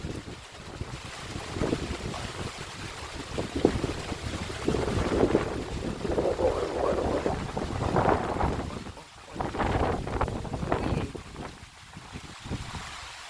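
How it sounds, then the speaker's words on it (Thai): Strong wind gusting and buffeting a microphone outdoors after dark, a steady broadband roar that swells and dips over about thirteen seconds, with no talking. "ดูนะ ลมนะ เสียงลมนะจ๊ะเพื่อนน"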